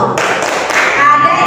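A classroom group claps out a short patterned chant clap in a school teaching session, a few quick bursts of hands close by, with a voice over part of it.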